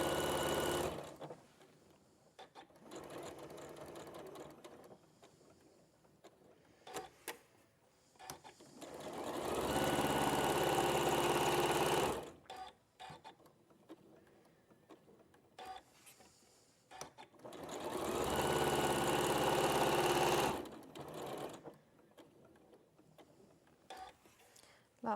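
A sewing machine chain-pieces quilt pieces in two long, steady stretches of fast stitching, with quieter gaps between them carrying faint background sounds.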